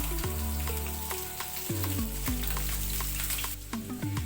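Meat and oil sizzle steadily in a saç tava pan, a continuous close frying crackle with scattered pops, with no talking.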